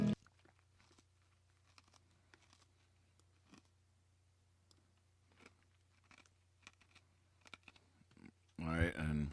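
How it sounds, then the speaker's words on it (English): Ice being chewed close to the microphone, scattered crisp crunches and bites spread over several seconds, ending in a sudden burst of louder sound. "sorry for chewing the ice in your ear"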